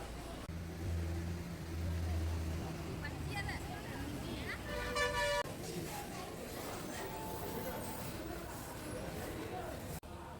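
A KSRTC bus on the Ulvi to Sirsi route pulls in at Dandeli bus stand, its engine rumbling and revving steadily amid the chatter of a busy station crowd.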